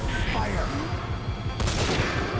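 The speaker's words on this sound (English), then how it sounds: "Begin cover fire!" Heavy covering gunfire in Metal Gear Solid V: The Phantom Pain, a dense continuous barrage of shots and booms filling the scene, with voices shouting over it.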